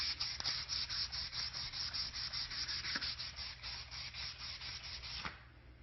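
Wooden jewellery box parts are hand sanded with sandpaper, worked up from 100 to 220 grit, giving a close, steady back-and-forth rasping in even strokes that runs throughout and stops near the end.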